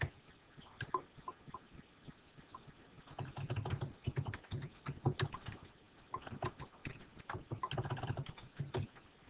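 Fingers tap steadily on a computer keyboard while entering an axis title in an Excel chart, the keystrokes close and clicky with short pauses between bursts of quick typing.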